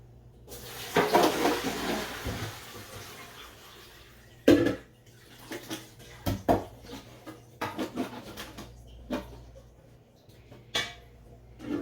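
Soaked apple slices drained in a home kitchen, with a splashing pour of water early on, then scattered clatters and knocks of the container and slices.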